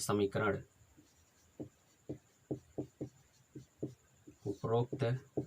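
Pen strokes writing out a Class 10 maths solution on paper, a pair of linear equations solved by the graphical method: short, evenly spaced scratches, close and fairly quiet, with someone speaking before and after.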